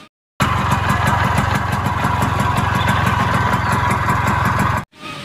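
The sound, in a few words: toy Vespa motor scooter engine sound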